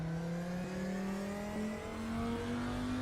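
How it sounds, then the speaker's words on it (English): A race car in the RaceRoom racing game accelerates with a steady, rising engine tone and a whining transmission, loud and continuous with no talking. "And you can hear the engine, you can also hear the transmission."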